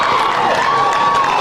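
Crowd cheering and shouting at a high school baseball game between Cedartown and Sonoraville, from the stands just to one side, a steady loud wash of voices with no pauses.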